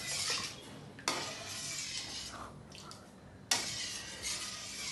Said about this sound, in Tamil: இப்போ நான் முதல் தேங்காய் பாலை ஊற்றுறேன்.